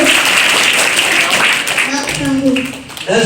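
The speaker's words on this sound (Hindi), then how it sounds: "इसके लिए भी जोरदार तालियां।" Loud, dense clapping from a group of schoolchildren fills the room during a school assembly, a steady rattling crowd applause with voices mixed in throughout.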